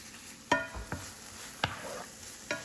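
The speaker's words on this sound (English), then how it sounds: "So you add that and then stir it in." Garlic and thyme are stirred into a cooking pan with crab ravioli filling, giving four sharp, separate scraping clacks against a faint, quiet sizzle, with no talk.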